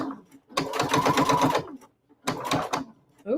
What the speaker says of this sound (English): when you're stitching, you want to stitch on the casing where they already have stitching